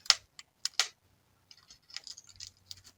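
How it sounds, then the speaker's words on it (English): Small knife trimming tape along the edge of foam board, quiet close clicks and light scratchy cuts in short irregular bursts. "Take my little knife, trim along the edge."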